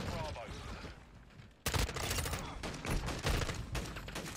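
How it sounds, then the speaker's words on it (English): Video game shotgun blasts come as a burst of loud, sharp reports with a dense barrage of repeated shots and mechanical clatter, up close and heavy. "What kind of shotgun is that?"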